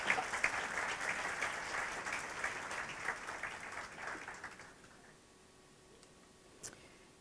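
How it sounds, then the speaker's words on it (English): Audience at a high tea party applauds, a dense patter of clapping that fades out over about five seconds, leaving a quiet room with a few stray claps. "Let's have another round of applause,"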